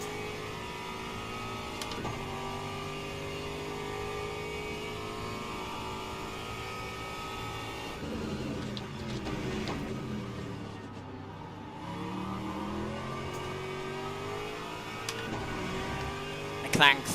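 GT3 race car engines drone steadily in Le Mans Ultimate at Fuji, with a McLaren and Ferrari nearby, the whine rising and falling through braking and acceleration as a voice talks over it.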